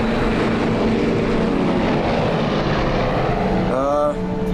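An airplane carrying passengers takes off with a loud, steady engine roar that fills the whole stretch close by, and a brief rising whine shows up near the end.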